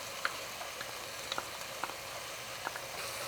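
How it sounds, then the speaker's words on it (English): Tomato paste fries in a pan for a lentil and lamb braise, giving a steady dense sizzle with a few faint ticks and pops from stirring, and no voices. "Another couple more minutes, saute with the tomato paste."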